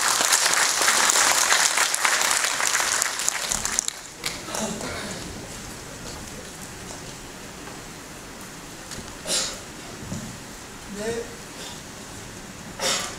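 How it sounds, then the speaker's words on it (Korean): Audience at a debate event applauding loudly for several seconds before the clapping fades out, followed by quieter room sounds and a few muffled voices. "박수 부탁드립니다."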